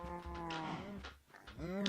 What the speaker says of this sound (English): they're the first 2 cows I brought back